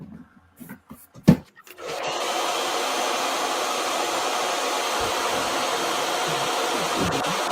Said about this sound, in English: I'll hit this with a blow dryer right now